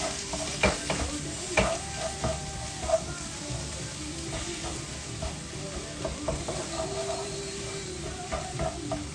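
A pan fries steadily at close range with a constant sizzle, broken by sharp scraping and tapping as the food is stirred. A faint voice may sit low underneath.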